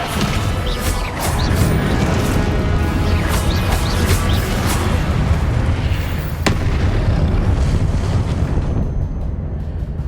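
A Confringo explosive spell cast in the Hogwarts Legacy video game: loud, roaring blasts and booming rumble run almost continuously, with a sharp crack near the end before the noise thins and fades.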